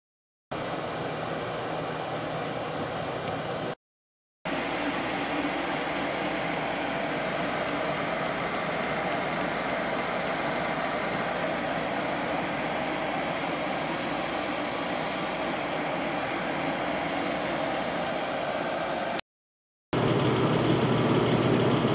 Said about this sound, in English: that little diesel heater, boy, it heats the whole place